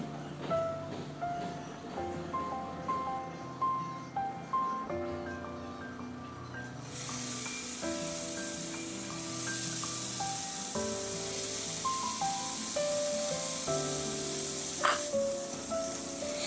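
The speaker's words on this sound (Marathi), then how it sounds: "तेल गरम झालं आहे। आता यामध्ये मॅरिनेशन करून घेतलेली कोळंबी घालून घेऊ।" Marinated prawns dropped into hot oil in a pan burst into a loud, continuous sizzle midway, following a stretch of soft background music.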